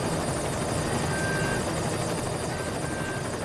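A helicopter in the video game Cryostasis, starting up with a steady, loud rotor whine and dense engine drone that holds constant and close throughout, with no voices.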